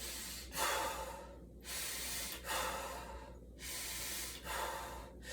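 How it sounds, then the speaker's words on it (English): Slow belly breathing done as a relaxation exercise: long, airy inhales and exhales alternate in a steady rhythm of about one breath cycle per second. The breaths are close and soft, with no talking. "just doing belly breathing"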